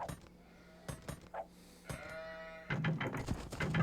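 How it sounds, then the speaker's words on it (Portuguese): Sheep bleating in the video game Age of Empires II, a few short cries over game background noise, with louder clatter and sound effects building toward the end. "Ovelha encontrada."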